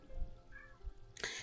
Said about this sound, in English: Yes, it was a cat. Have you never heard a cat go?